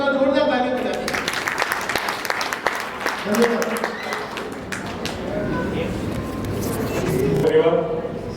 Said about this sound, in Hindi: हमारे ग्रुप के लिए अब एक बार जोरदार ताली बजाइए।